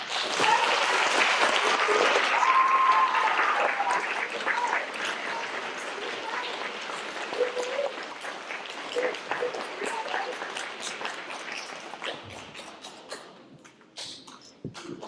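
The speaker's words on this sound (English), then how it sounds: "So if everyone believes in you, clap your hands." A theater audience at a school production of Peter Pan claps loudly, with dense applause that gradually thins into scattered claps while voices murmur underneath.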